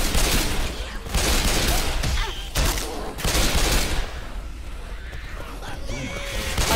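Rapid bursts of pistol fire from a Left 4 Dead zombie match crack out loud and close in quick clusters, with short gaps between volleys and game effects running throughout.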